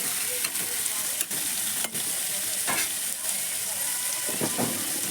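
Onions fry in a pan for a simple chicken curry, giving a steady close sizzle broken by several sharp scraping stirs of a spoon.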